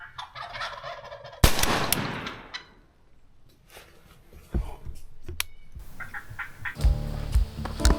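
A wild turkey gobbles repeatedly outdoors at moderate distance, mixed with sharp knocks and bursts of broadband noise.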